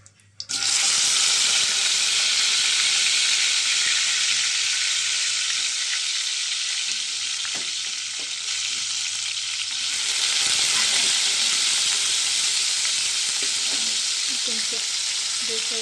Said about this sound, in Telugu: కొంచెం బంగాళదుంపని డీప్ ఫ్రై చేద్దాం ఫ్రెండ్స్